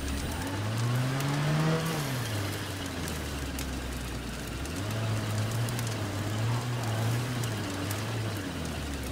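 A car drives in the video game State of Decay 2, with a steady engine drone that rises and falls as it revs, continuous and fairly loud with a hissing rain-like wash over it and no talk.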